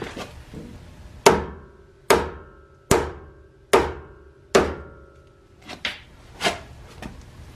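Hammer blows on a steering knuckle of a 2009 GMC, five sharp ringing metallic strikes at an even pace, close and loud, followed by a few softer taps.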